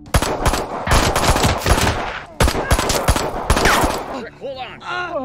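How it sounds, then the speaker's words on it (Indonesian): Rapid gunshots in a film action scene, loud bursts of automatic fire in two long volleys, then a short stretch of other sounds. "dan bahkan sampai menembak kaki Eric."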